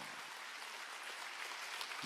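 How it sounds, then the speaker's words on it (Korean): A church congregation at a Friday summer revival service applauds together, a steady, faint wash of clapping that holds evenly for about two seconds with no voices over it. "박수 해야지."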